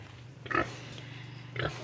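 Pig grunts from pregnant sows, two short snorting bursts spaced about a second apart, close by over a low steady hum.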